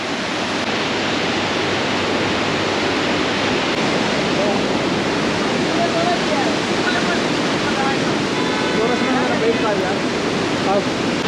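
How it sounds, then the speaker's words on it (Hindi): A small mountain river in Naran, Pakistan, flowing steadily and loudly up close as a continuous broadband rush, filling the whole stretch without pause. "तो ये इधर का एक नदी है छोटी सी जो कि दरिया कुनार में जाके मिलती है।"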